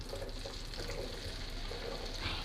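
Peeled garlic cloves, about a kilo, dropped into hot oil with spices for garlic pickle, giving a steady soft sizzle and bubbling hiss that stays even throughout, with no talking.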